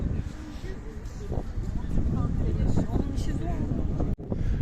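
Light wind buffets the microphone in low, uneven gusts on a walk from Beşiktaş to Galataport in Istanbul, with faint background activity and a brief dropout near the end.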